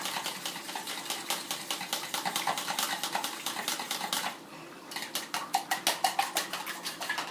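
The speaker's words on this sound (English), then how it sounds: "And then you whisk it and put it on the side." A whisk beats a sazón seasoning mixture in a bowl, making rapid, steady metallic clinks against the sides, with a brief pause partway through before the quick strokes resume.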